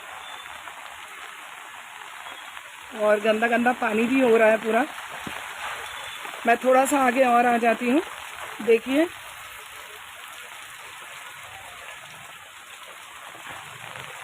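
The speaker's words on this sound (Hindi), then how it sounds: "बहुत ज़्यादा बारिश है, बहुत ज़्यादा बारिश है" Heavy rain falls in Delhi with a constant close hiss and patter that runs the whole time, while someone talks over it for a few seconds in the middle.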